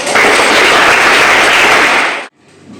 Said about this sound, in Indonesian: tepuk tangan, beri aplaus